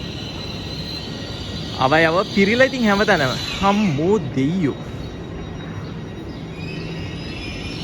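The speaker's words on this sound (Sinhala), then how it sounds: "මේ ඔය ගොතාට් බේස් ටනල් එකේම පැයට කිලෝමීටර් 220ක වගේ වේගෙන් යනවා" A Swiss train speeds at about 220 km/h through the Gotthard Base Tunnel with a steady, continuous interior rumble. Someone talks loudly over the middle stretch.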